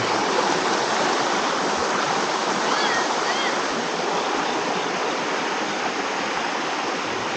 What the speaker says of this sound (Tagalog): free flowing water malinis kitang kita mo malinis talaga flowing water everywhere